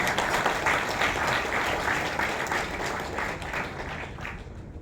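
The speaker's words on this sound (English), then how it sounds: "You can go for a clap." A university audience of students at a tech festival talk bursts into sustained applause, a dense, even wash of clapping with light crowd murmur that slowly fades toward the end.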